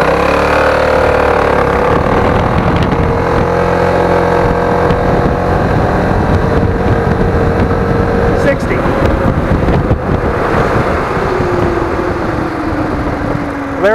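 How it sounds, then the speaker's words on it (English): Piaggio MP3 500cc three-wheel scooter pulling away at full throttle from a stop, a loud steady engine drone rising in pitch with a gear or speed change and wind rush, recorded close. "We're at a dead stop. I'm going to go full throttle."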